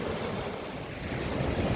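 Sea surf washing onto the shore in Odesa, a steady broadband rush with wind buffeting the microphone, fairly loud and continuous with no talk.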